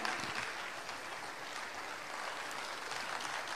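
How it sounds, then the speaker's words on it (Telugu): Applause from the audience at a public event honouring Chandrabose makes a dense, steady patter of clapping. It stays fairly faint throughout the short stretch, with no voices over it. "గట్టిగా చప్పట్లు కొట్టండి"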